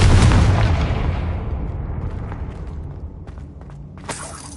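A Confringo explosion spell cast in a Hogwarts video game, bursting in a single loud close boom that rumbles and fades over several seconds, followed by a faint sparkling shimmer.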